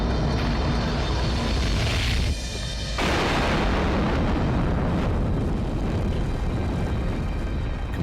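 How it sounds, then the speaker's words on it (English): A rocket engine roars with violent combustion instability, a dense, loud, continuous rumbling blast that briefly cuts and thins in the middle before surging back full and steady. "Combustion instability"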